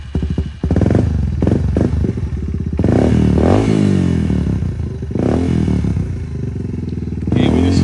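A Yamaha TW200 motorcycle engine revs loudly up close in repeated surges, with clattering and thumps mixed in and voices nearby.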